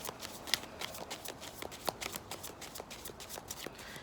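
Alice in Wonderland tarot deck being shuffled, a steady run of soft riffling card flicks and taps at close range, continuing without pause and with no talking.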